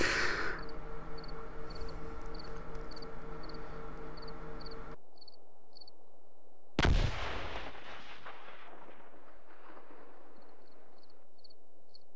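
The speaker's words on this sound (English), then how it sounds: "shooting like this more to suppress them than to defeat them" Gunfire in the WWII video game Combat Mission Market Garden makes a dense, continuous rumble of distant shooting, then falls quiet before a single loud blast with a long fading tail.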